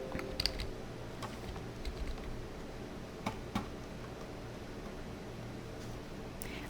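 Computer keyboard keys pressed while resizing a soft round brush in Photoshop: a few quiet, sparse clicks at irregular intervals over a low steady hum, with no voice.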